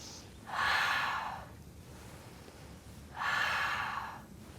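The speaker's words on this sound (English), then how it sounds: "I'm breathing steadily in to lift, out to lower" Two steady, close breaths taken during a Pilates mat workout in a park, each a smooth airy rush lasting about a second, separated by a quiet pause.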